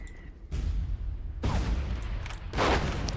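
Mortar fire in the Warfare Legacy Collection war game: a few heavy booming launches and blasts arrive in separate bursts, each with a broad rumbling tail, loud and fairly close, with no voices over them.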